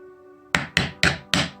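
After a brief low hum, a hammer knocks a wooden piece into a toy riding mower trailer in a workshop with four crisp, close, evenly spaced taps, and no one speaking.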